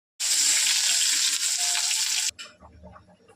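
Onions hit hot oil in a kadai with a loud, bright sizzle that holds steady for about two seconds, then cuts off abruptly, leaving faint clattering and quiet kitchen sounds.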